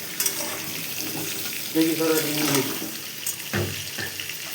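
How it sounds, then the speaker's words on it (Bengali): Potatoes frying in reheated oil for a Bengali chicken and spinach curry, a steady hissing sizzle with bursts of louder bubbling and a few sharp clatters near the cooking pot. "তেলটা আবার গরম হলে এই তেলে আলুগুলো ফ্রাই করে"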